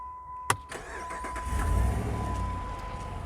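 A Jeep Grand Cherokee with the 5.7 HEMI engine is started up close: a sharp click, then the engine catches with a low rumble that swells and settles into a steady idle, with no voices.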